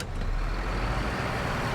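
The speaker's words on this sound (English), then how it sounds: "I just drive the truck and you guys listen to the game" A truck in the SnowRunner video game, on Drummond Island, Michigan, drives with a steady, dense engine rumble and road noise that stays level throughout the short stretch.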